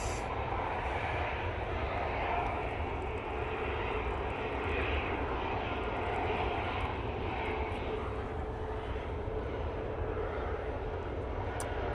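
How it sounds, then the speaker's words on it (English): A Ryanair airliner arriving from Bologna at Manchester Airport roars steadily and loudly throughout, a broad continuous jet engine rush with no break, in windy conditions. "Next arrival is the Ryanair from Bologna."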